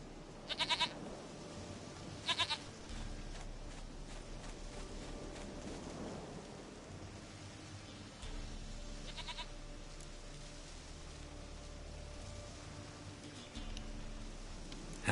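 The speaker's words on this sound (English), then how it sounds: "Goat of mine, dearest, sweetest goat." A goat in the video game Witcher 3 bleats in a few short, sharp bursts amid faint rain and low rumbling ambience, the cries spaced out across a quiet scene.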